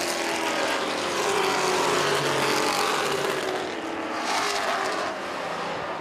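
A pickup truck races around an oval track at a fair on its last lap, the engine droning loud and continuous with the pitch swelling and easing as it passes through the turns.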